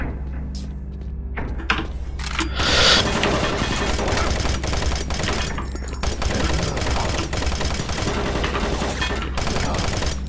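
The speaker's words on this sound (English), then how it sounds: "Just heard them like shooting at me." Enemy gunfire in Doom 3 crackles in continuous sustained bursts over a loud, dense bed of game noise, steady throughout with a few sharper peaks.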